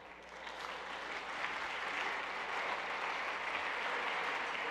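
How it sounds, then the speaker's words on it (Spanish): An audience at a genealogy expo lecture applauds steadily for the president of a genealogy society, a dense, even wash of clapping that swells slightly and holds throughout. "para quien pido un aplauso"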